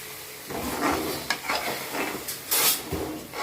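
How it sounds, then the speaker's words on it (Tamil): A paste of ground cashew, onion, tomato and poppy seeds for mutton pepper gravy sautés in oil, giving a soft sizzle with several swelling bursts of hiss and stirring scrapes, close and moderately loud, no speech. "இப்போ இது எண்ணெய் திரிஞ்சு வர அளவுக்கு லைட்டாக வதக்கணும்"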